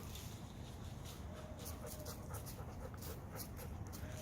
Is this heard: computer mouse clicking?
no